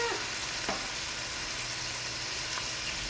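Shrimp sizzle and fry in a hot pan, seasoned with Old Bay, giving a steady crackling hiss throughout at moderate volume with no talk.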